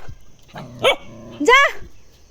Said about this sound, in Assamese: ঢেৰ কুকুৰ আমাৰ ঘৰত